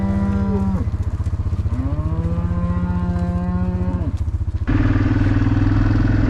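Several cattle moo loudly up close, long drawn-out calls one after another, over the steady chugging of an idling old Yamaha motorcycle engine.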